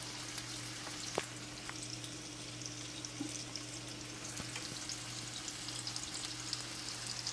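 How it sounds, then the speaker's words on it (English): Steady, soft sizzling of food frying in a pan, with a low constant hum underneath and a few small clicks, no talking. "since we're frying stuff"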